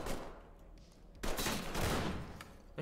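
Video game gunfire erupts in loud, dense bursts of shots, close and overlapping, with a quieter stretch before the heaviest volley.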